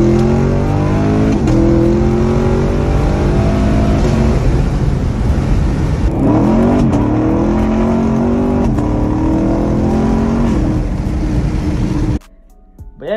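Loud engine of a sports car, a Q50, revving hard through repeated full-throttle pulls, rising tones climbing through gear changes for about twelve seconds before cutting off abruptly.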